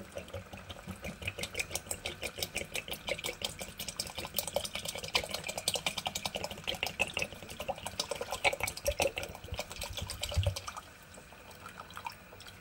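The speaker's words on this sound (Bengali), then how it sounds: "এবারে আমি এর মধ্যে দিয়ে দেব 1 লিটার জল" Water poured steadily into a pot of boiling grape mixture on the stove, a continuous splashing trickle that runs for about ten seconds before tapering off, close and moderately loud with no talking.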